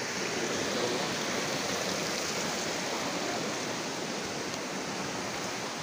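A waterfall roars as a steady, dense rush of falling water, continuous and even throughout with no voices over it.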